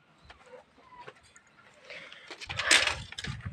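Chickens in a coop stand cluck and squawk in short, scattered calls that start faint and grow louder and busier toward the end, with a burst of agitated noise near the close.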